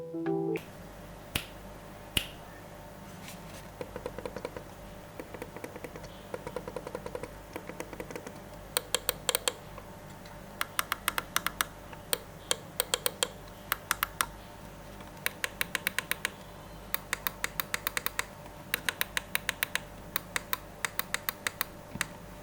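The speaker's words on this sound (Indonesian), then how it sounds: "Untuk suara klik kiri dan klik kanannya termasuk silent, namun untuk tombol yang lain ini clicky. Seperti ini dari sound sample-nya." Side buttons on a Protoarc EM11 vertical mouse give sharp, clicky snaps, pressed singly at first and then in quick rapid clusters, crisp and close over a faint steady hum.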